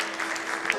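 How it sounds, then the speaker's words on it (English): Audience clapping at a hotel industry awards ceremony, a steady wash of applause from a crowd, moderately loud and even throughout the short moment. "A round of applause as we get set to congratulate Ginger Goa Candlin."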